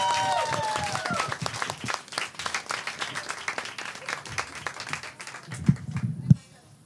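An audience at a comedy show claps and cheers as comedian Lise Etienne comes on stage, dense clapping with crowd noise and voices, thinning out and stopping abruptly near the end.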